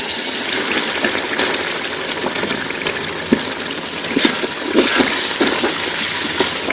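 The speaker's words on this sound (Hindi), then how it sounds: "मसाले में थोड़ा सा पानी डालेंगे।" Water poured into spice masala frying in a pan, a steady hissing sizzle with watery bubbling and a few sharp spatters, close and continuous with no talking.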